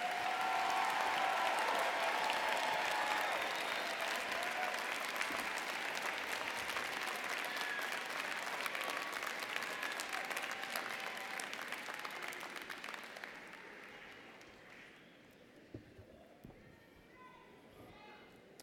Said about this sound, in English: would like to salute you with a round of applause